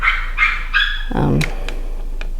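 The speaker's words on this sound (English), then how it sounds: "And the dog's going crazy" A dog barks three sharp times in quick succession near a log-cabin construction site, followed by a lower whine or growl, with faint ticking sounds behind.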